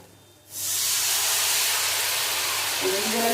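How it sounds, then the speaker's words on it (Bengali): Water poured into sizzling spiced masala for a giant freshwater prawn curry erupts into a loud, sustained hiss of steam and sputtering after a short quiet start, staying broad and steady throughout. "এখন পরিমাণ মতন জল দিয়ে দেবো"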